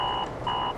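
An alarm clock in a ranch-life advertisement buzzes in two steady electronic bursts, near and loud, with a short gap between them and no voices.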